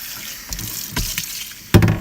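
Snow- or ice-dyed fabric rinsed under a running tap: light intermittent splashing, then a sudden louder gush of water at the close.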